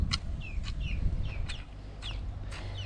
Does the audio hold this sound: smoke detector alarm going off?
no